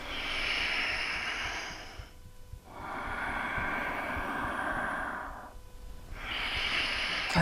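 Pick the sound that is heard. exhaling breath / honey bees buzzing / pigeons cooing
exhaling breath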